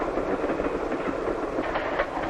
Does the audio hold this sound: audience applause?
no